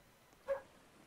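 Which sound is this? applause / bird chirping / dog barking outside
dog barking outside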